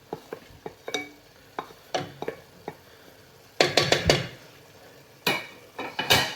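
Onions tipped into a hot pan for a pea and ham soup, with sharp clatters and scrapes of a utensil against the pan and bursts of loud sizzling, close up and with no talking.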